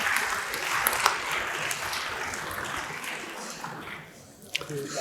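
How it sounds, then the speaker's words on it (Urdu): Audience applause at the opening session of an international Iqbal conference, greeting a speaker called up for the welcome address. Steady, fairly dense clapping fills the room for about four seconds, then thins out, with a few isolated claps at the end. "میں گزارش کرتا ہوں معروف ماہر اقبالیات، ڈائریکٹر اقبال اکادمی ڈاکٹر عبدالرؤف رفیقی صاحب سے آپ کی بھرپور تالیوں میں خطبہ استقبالیہ کے لیے تشریف لاتے ہیں"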